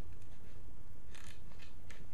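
Zip tie ratcheting as it is pulled through and zipped tight on a pallet wood doormat, a couple of short raspy zipping bursts over steady background noise.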